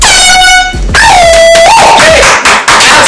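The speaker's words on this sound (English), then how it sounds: "And maybe you'll see us blow this air horn once or twice." A loud truck-style air horn gives a couple of sharp blasts, the first a steady held tone and the second bending in pitch, with thumps and crowd or room noise in between.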